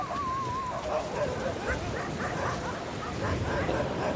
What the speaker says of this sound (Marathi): कुत्र्यांचा इथं खूपच मोठा गोळा आहे